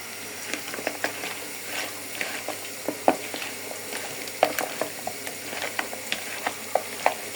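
Onion fries in hot oil with cardamom and cinnamon, a soft, even sizzle punctuated by frequent light clicks and taps of a spoon stirring in the pan, with no voices.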